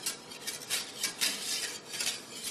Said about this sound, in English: you want to, again, whisk that pretty smooth